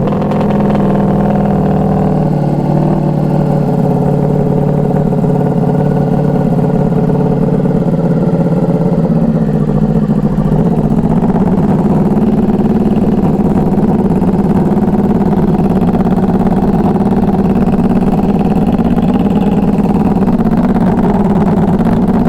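A Ducati Panigale V4 motorcycle runs on a dyno, its loud engine droning and rising in pitch as it revs continuously under load, with no break in the roar.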